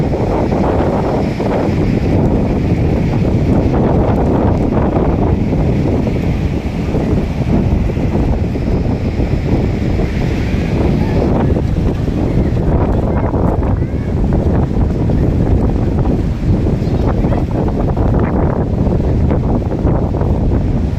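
Loud, constant wind roars and buffets the microphone throughout at Kovalam Beach, with a rushing, surf-like wash underneath and no clear talking.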